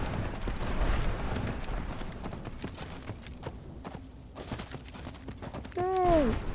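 Horse hooves clop rhythmically in the video game Skyrim, a steady galloping beat over ambient noise, followed by a brief whinny near the end.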